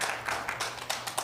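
Audience applause at a Portland public hearing, a brief burst of many hands clapping close and fairly loud, dense and uneven throughout.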